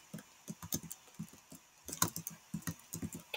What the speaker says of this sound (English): You can definitely hear the keyboard noises.